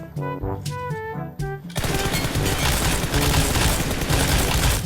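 Gunfire in PUBG Mobile, a mobile shooter game, bursts into a dense, continuous rattle of rapid shots after a few short tonal game sounds, staying loud and close to the end.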